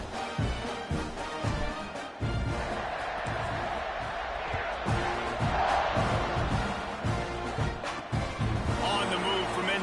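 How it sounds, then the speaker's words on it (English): A packed stadium crowd in the College Football 26 video game roars steadily after a touchdown, a loud, dense buzz that fills the whole stretch with commentary running over it. "this crowd is buzzing after that last score"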